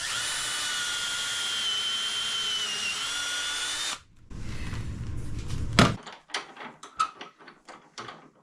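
A power drill with a 3/8 inch bit whines steadily for a few seconds while boring into wood, then stops; afterward come a short burst of rough grinding and a series of clattering knocks.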